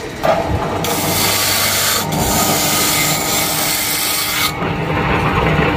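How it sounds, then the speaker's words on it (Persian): Sandpaper rubbing the wooden bowl of a kamancheh, a close, raspy scraping in long continuous strokes with brief pauses between passes. "وقتی ما سنباده میزنیم باید یک دستش کنیم به این صورت"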